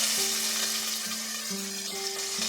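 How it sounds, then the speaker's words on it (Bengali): Raisins fry in oil left from frying carrots, giving a close, continuous sizzle with a steady low hum underneath; no voices. "গাজরটা ফ্রাই করে নেওয়ার পর আমি এই তেলেই ফ্রাই করে নিচ্ছি কিশমিশ।"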